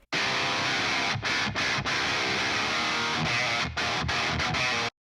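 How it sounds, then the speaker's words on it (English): Thick distorted metal guitar through a Fortin Blade overdrive pedal, riffing with tight rhythmic chugs and several abrupt silent breaks, loud and close with no voices. "And then the Fortin blade sounds like this."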